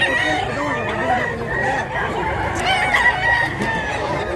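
Roosters crow amid steady clucking at a busy, crowded sale of mountain-raised chickens, a dense, loud flock close by with a bit of background chatter.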